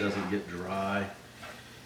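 Eggs stirred around a hot frying pan, a soft sizzle and light scraping under a person talking, brief and fading near the end.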